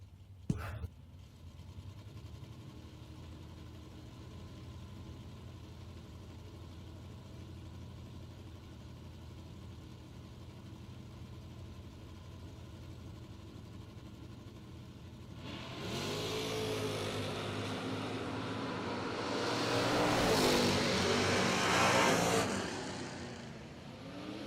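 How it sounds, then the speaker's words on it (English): Drag race cars at a Labor Day event idle with a low, steady rumble, then a loud roar of acceleration builds and swells toward the end. "Nice drag race right there with Gage Birch coming out on top."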